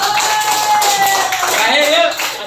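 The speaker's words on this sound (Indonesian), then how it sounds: "Tepuk tangan semua." Classroom of students claps together after a lesson on the Hajj pilgrimage, a brisk burst of many hands at close range, mixed with children's voices and chatter.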